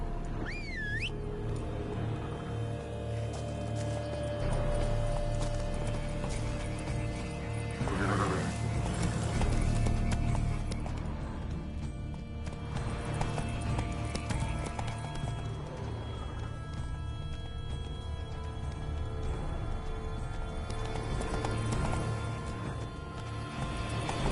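Hooves of Geralt's horse Roach in The Witcher 3 thud in a steady galloping clip-clop, close and continuous over a low drone, with a brief whinny near the start.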